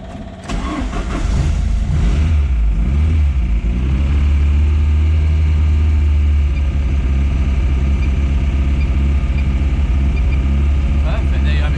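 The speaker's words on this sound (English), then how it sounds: "She's running, and this was all done on the Fueltech startup map feature. Idling quite nice actually." A Ford Escort MK2 engine cranks and fires on a Fueltech startup map, then settles into a loud, steady, close idle with a deep rumble that holds to the end.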